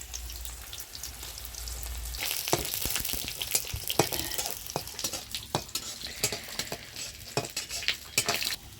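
Garlic with green and dried chillies frying in a pan, a steady close sizzle broken by frequent scraping stirs of a spatula against the metal.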